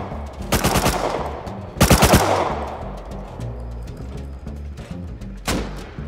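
AK rifle fire in the Rust video game comes in rapid bursts, with two loud volleys early and a single sharp burst later, heard over a low background hum.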